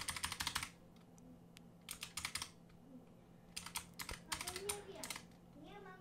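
A code is typed on a computer keyboard in a game, heard as three quick bursts of close, crisp key clicks separated by brief pauses over a quiet background hum.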